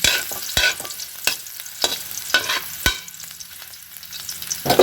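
Ginger sautéing in leftover oil from frying pompano, a steady close sizzle with sharp clicks and scrapes of a spatula stirring the pan, no voices.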